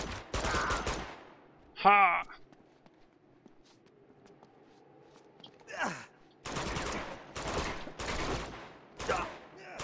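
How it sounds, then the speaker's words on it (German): Enemy gunfire in the video game Uncharted 2 comes in loud bursts of rapid automatic shots, split by quieter stretches with faint movement and a short vocal exclamation, before several more heavy volleys. "Dann der schießt ja so geil."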